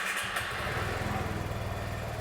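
A 2015 Vespa Primavera 150 scooter starts and settles into a steady close-up idle, its small engine putting out an even, rapid pulsing putter with no talking.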